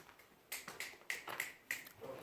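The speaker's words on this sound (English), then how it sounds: "She coming through when I snap my fingers." Fingers snap several times in a quick, uneven series to call a horse through, each snap a sharp, quiet, close click outdoors with no talking.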